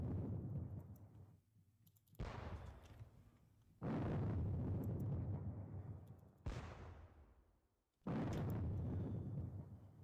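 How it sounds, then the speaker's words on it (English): Artillery bombardment explosions from a Napoleonic wargame arrive as four or five heavy booming blasts, each starting abruptly and rumbling away before the next, loud and close, with no voices. "Do the usual artillery bombardment."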